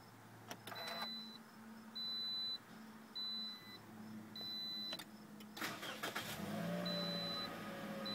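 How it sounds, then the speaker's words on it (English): A 2013 Toyota Corolla S sounds a series of dashboard chimes, then its push-button start cranks the engine briefly before it catches and settles into a smooth idle, heard from inside the cabin. "hit the illuminated button to start the engine."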